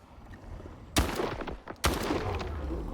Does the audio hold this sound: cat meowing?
no